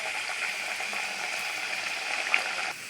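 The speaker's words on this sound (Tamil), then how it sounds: "இப்போ எண்ணெய் வச்சாச்சு, நல்லா காஞ்சிடுச்சு. சிம்மில் வச்சுட்டு நம்ம ஒன்று ஒன்றா போட்டுடலாம்." Pieces of paal cake, a Tamil sweet, sizzle in hot oil over a low flame with a steady, close bubbling hiss. The frying runs continuously with no talk over it.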